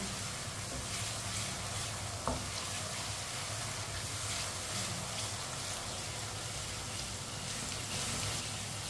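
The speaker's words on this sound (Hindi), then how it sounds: "लहसुन और प्याज को मैंने 3 मिनट के लिए पका लिया है।" Garlic and onion frying in a pan over medium heat for a chicken and turnip dish, giving a dense, even sizzle with a single brief clack near the middle and no talking.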